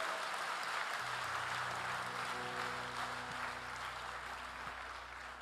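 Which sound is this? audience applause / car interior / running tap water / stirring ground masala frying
audience applause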